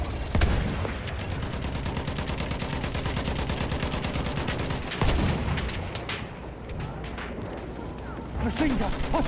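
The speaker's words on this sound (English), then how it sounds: "Machine gun over there!" Sustained rapid machine gun fire rattles through a Battlefield 1 battle at St. Quentin Scar, loud and dense with booming shots and explosions layered in, and a voice calling out over the din.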